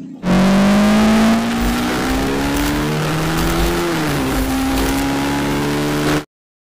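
A motorcycle engine runs loud and close, its pitch climbing steadily as it revs, dipping briefly, then holding a high droning whine before cutting off.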